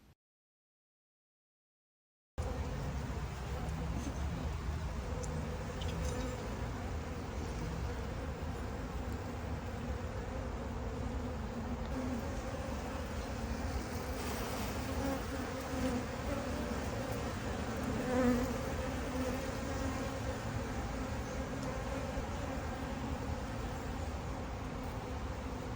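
Honeybees buzzing steadily and densely around a small queenless colony into which a queen was introduced, a continuous close hum without pauses or talk.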